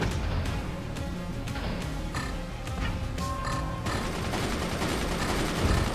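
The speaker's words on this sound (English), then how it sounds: "we're getting hit with artillery" Artillery fire striking a flying battleship in the game Forts, a dense, steady barrage of booms and impacts with sharp blasts scattered through it, continuous for the whole stretch with no talk.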